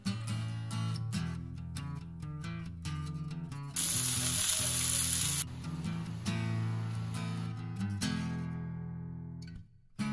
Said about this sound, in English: Flip the steaks and sear the other side for 3 minutes.